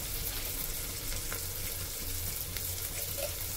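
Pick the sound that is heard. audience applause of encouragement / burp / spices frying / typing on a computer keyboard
spices frying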